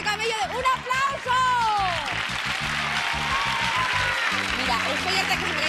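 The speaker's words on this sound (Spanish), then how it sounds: "¡Un aplauso!" A studio audience at a Spanish TV game show claps in sustained applause while an excited host keeps shouting and talking loudly over it.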